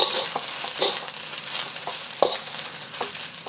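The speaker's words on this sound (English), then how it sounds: "move the noodles around until it's all evenly colored and all the ingredients are evenly distributed with the noodles" Noodles are stirred around a hot pan, sizzling steadily, with repeated scraping strokes and light clatter at an irregular rhythm.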